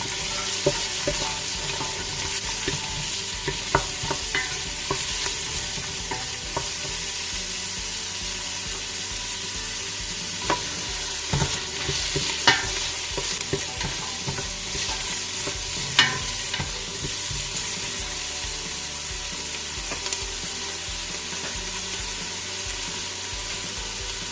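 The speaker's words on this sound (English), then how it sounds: "Saute it until it's translucent in color." Onions sauté for Japanese curry in a pan, with a continuous sizzle and occasional clinks and scrapes of a stirring utensil throughout.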